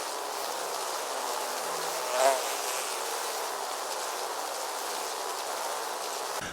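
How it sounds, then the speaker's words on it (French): A dense, continuous insect-like buzzing, as of a swarm of carnivorous flies behind a door in a Martinique tale, droning evenly throughout with one brief louder swell. "Derrière la porte montait un bourdonnement assourdissant."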